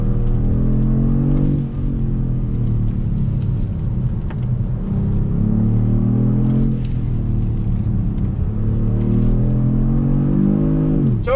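A 2019 Kia Stinger GT2 accelerates hard in second gear, its engine note rising steadily in pitch, dropping briefly at about two and eight seconds, then climbing again, loud and close with no talking.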